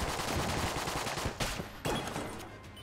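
Rapid automatic gunfire from a MAC-10 in the bullet-hell game Enter The Gungeon, a dense continuous rattle of shots with a couple of sharper bursts standing out.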